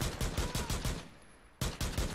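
Rapid automatic gunfire from the video game Rainbow Six Siege comes in a fast burst of close, loud shots, then a brief lull with a fading tail before another burst starts.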